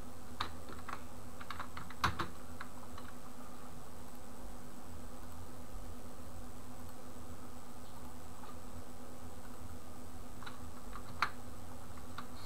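Scattered keystrokes on a computer keyboard tap out faintly and intermittently over a steady background hum while writing code for full stack web development, with no one speaking.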